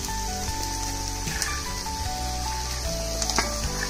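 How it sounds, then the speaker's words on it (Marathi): Carrot, beetroot and green peas sautéing in a pan for vegetable cutlets give a continuous close sizzle and crackle, with a soft tonal hum running underneath and a few sharper pops. "सर्व भाज्या व्हिडिओमध्ये दाखवल्याप्रमाणे एका पाठोपाठ एक टाकून 5 मिनिटं परतून घ्यायचं आहे"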